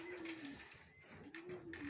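Pigeons coo softly during an afternoon feeding at a home loft: low, repeated rolling coos that come in two phrases, faint against quiet background rustling.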